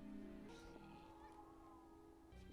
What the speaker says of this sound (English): You better pet that cat.